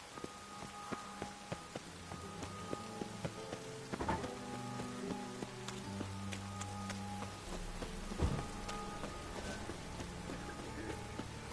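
Steady rain patters in The Witcher game world, a soft continuous hiss of drops with occasional scattered taps and a low distant rumble, no talk over it.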